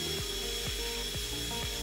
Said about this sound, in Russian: Прорезаю бороздки для коронки, а дальше можно сверлить без кондуктора.